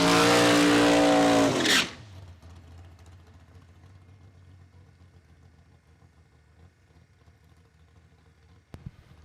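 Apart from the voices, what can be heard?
altered drag race car making a pass down the track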